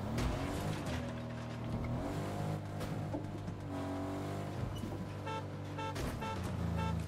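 A car engine in the Fortnite video game revs and accelerates, rising and falling in pitch over steady background music across seven seconds, fairly faint overall, with no voices heard.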